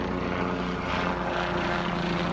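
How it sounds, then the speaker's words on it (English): An Army helicopter passes overhead near a fire-hit neighborhood in Northern California, its steady low rotor drone and engine whine holding loud and even throughout with no one talking. "I think that might be an Army helicopter."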